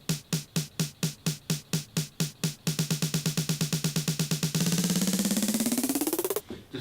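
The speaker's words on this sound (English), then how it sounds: "Very simple snare roll." An electronic snare roll speeds up from evenly spaced hits into a rapid buzzing blur whose pitch sweeps upward at the end, then cuts off abruptly.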